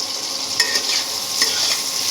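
Loud, steady hiss of eggplant frying in oil over high flame, with a few stirring scrapes breaking through the sizzle, close up and without talk.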